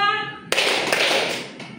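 Classroom of students clapping hands together on a teacher's count, a sharp burst of claps that starts after a brief voice and rings on as a short loud clatter.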